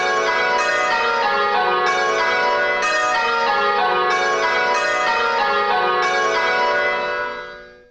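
Church bells in change ringing with the treble leading, a rapid cascade of overlapping bell strikes in a regular rhythm, loud and ringing, with the hum decaying away at the end and no voices.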